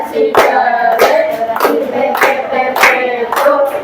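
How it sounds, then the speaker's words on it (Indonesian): A group claps hands in a steady rhythmic pattern during the Tepuk Semar clapping game, with loud bursts about every half second and voices chanting along. "Ya, tepuk tangan dulu."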